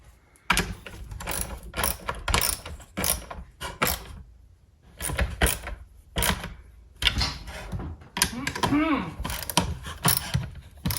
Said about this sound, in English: So we'll just torque these up.